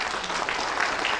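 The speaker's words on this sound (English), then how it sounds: "I think they deserve a round of applause." A town hall meeting crowd on security in Lagos State gives a brief, dense round of applause for security officials, continuous and fairly even throughout.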